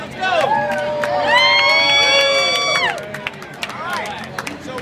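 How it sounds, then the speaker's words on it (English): Expo crowd at a Power Rangers costume photo shoot claps and cheers loudly for several seconds, with shouts and whistles, then fades to scattered claps and chatter. "let's make sure we applaud for everybody"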